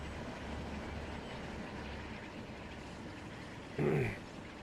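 An intercity sleeper train running on a UK-style railway in Transport Fever 2, a steady low rumble and rolling wash throughout with a short louder horn-like tone near the end.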